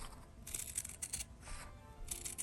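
Scissors snip through thick faux leather in a few short bursts of crisp cutting and rustling, quiet and close.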